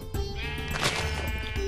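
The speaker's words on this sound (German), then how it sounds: "Da waren noch mehr Schafe, ne?" Sheep bleating in the video game Minecraft, one drawn-out wavering bleat heard up close and loud over a steady background hum, with no voices.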